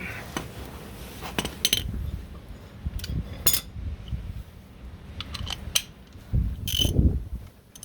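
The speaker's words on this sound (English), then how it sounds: "Now I'll get the ratchet on there" A ratchet turning on the leaf spring bolts of a 1969 Corvette during a fiberglass leaf spring install, with sharp metallic clicks in short irregular bursts, close and fairly loud, amid clinks of tools and faint rustling.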